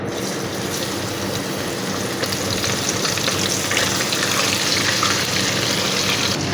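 Chicken dropped into hot oil, a loud continuous crackling fry that holds steady and grows slightly busier, with no talking.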